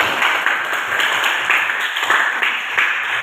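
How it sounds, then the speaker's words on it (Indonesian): Classroom clapping from a group of students after a pupil's answer during an Indonesian-language lesson, a dense, steady patter of many hands at moderate loudness, with no talk over it. "Tepuk tangan buat Putri"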